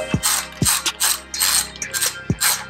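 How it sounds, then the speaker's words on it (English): A ratchet tightens the breather screws on a Big Sucker air intake, producing close, loud, rhythmic clicking bursts in quick repeated strokes with short pauses between them. "I am tightening down the breather screws"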